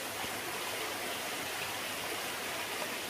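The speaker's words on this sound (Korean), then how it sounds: "옆에 또 이렇게 한신폭포가 유유 흐르고 있습니다" Hansin waterfall in a Jirisan mountain valley pours in a steady, dense rush of water, a continuous broadband roar that holds even and close for the whole stretch with no voices over it.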